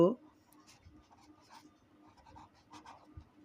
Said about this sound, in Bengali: আমরা লিখব